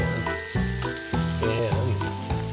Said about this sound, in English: Okay, I moved the tomatoes over to the other frying pan.